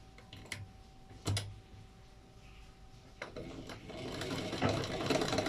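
A sewing machine stitches a beaded fabric piece in short clattering bursts, then runs into a longer steady whirring stitch toward the end, close and clear with no talk.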